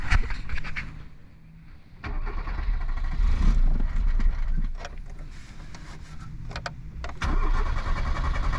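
A Peugeot 205 GL engine idles with the choke pulled, a loud, close, steady rumble that swells and dips as the revs shift, with a few mechanical clicks on top.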